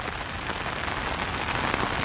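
Heavy rain pours down in a continuous, close, even hiss of drops striking surfaces, with no voices.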